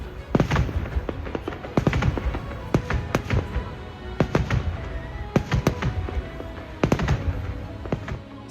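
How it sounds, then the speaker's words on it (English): Lunar New Year fireworks burst over Hanoi, a rapid irregular series of sharp cracks and booming thuds, some close and loud, others more distant, with no talking. "As the last firework fades into the night"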